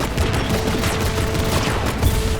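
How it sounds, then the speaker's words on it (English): A heavy metal machine gun in Destiny 2 fires in a dense, continuous rattling stream of loud close shots over a steady game-sound bed. "heavy metal machine gun that fires according to its own rhythm, where it gets alternate effects every 4th bullet"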